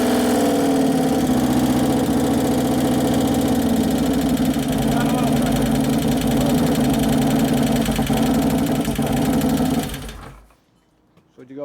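A 2011 Harley-Davidson Road Glide twin cam engine idles with a loud, steady mechanical clatter and rapid rhythmic ticking from the lifters for about ten seconds, then shuts off and falls almost silent.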